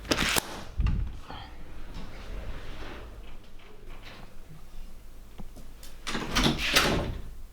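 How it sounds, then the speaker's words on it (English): A house door swinging shut and latching, with a sharp knock near the start, a second thud about a second later, quiet room noise in between, then another burst of clattering at the end. "it appears the door has locked behind us"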